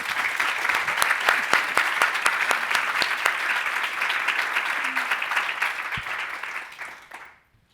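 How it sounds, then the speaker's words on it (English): A conference audience claps in a sustained round of applause, dense and even for several seconds before tapering off and fading to quiet. "if I could ask you to give the ladies here a big round of applause"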